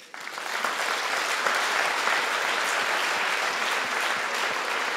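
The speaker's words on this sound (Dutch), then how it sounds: "ik wil een hartelijk applaus voor Vivian Gene" Audience applause for a cyclist at an awards ceremony, a dense steady clapping from a large crowd that swells in quickly and holds evenly for several seconds.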